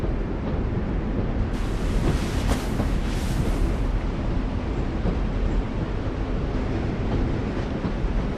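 A train in The Walking Dead video game makes a continuous heavy rumble and rushing roar, steady and fairly loud throughout, with no speech.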